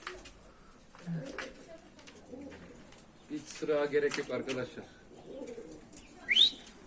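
Homing pigeons coo softly nearby on a hot 38°C day while someone speaks briefly, and a bright chirp stands out near the end.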